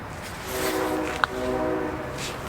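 A freight train led by an EMD diesel locomotive approaches with a steady rumble and rail noise, a short sharp horn blast sounding mid-way, no talk.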